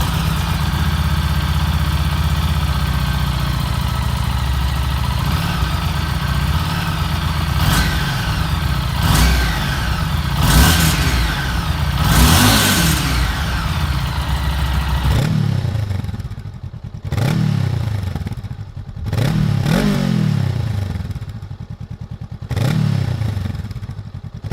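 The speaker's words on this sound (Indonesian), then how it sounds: "Berikut gue tampilkan video dari suara knalpot original Harley Davidson Street 500 dan Honda Rebel 500" Original stock exhausts of a Harley-Davidson Street 500 V-twin and a Honda Rebel 500 cruiser, loud and close: a steady idling rumble, then repeated sharp throttle blips that rev up and fall back, with no voices.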